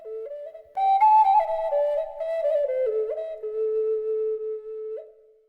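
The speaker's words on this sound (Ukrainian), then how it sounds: "Пташка свищик є давнім амулетом та народним музичним інструментом." A clay bird-shaped Ukrainian folk whistle plays a simple melody alone, clear and pure, with stepping pitches, a few held notes and warbling slides.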